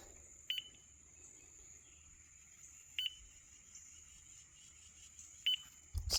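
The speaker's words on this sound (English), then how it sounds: "So that beeping happens, I'd say about once every 3 seconds." Mighty Mule 360 gate opener giving an error alert: three short, faint electronic beeps evenly spaced about every three seconds over quiet outdoor ambience with insects, no talking.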